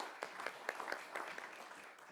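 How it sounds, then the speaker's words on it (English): Brief applause from an audience at a resident research symposium following presentations, a short burst of scattered claps that is fairly faint and distant. "Please give them a round of applause."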